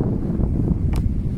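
Steady low wind buffeting the microphone on Lime Cay island off Port Royal, Jamaica, a continuous dull roar with one brief gust.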